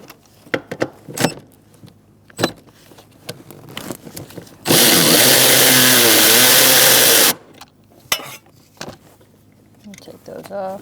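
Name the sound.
12mm socket loosening nuts on Honda CR-V brake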